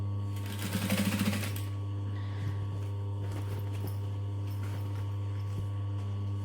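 Sewing machine top stitching a curved seam: a short rapid burst of needle stitching near the start, then a steady motor hum with faint clicks and handling.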